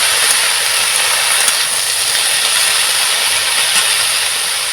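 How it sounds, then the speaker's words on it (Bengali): Peeled, finely chopped potato stir-fried in hot oil in a pan gives a loud, steady, unbroken hiss of sizzling, close up and without any voices. "একটু নাড়াচাড়ানো করে নেব।"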